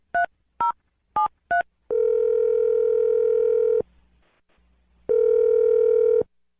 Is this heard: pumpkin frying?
no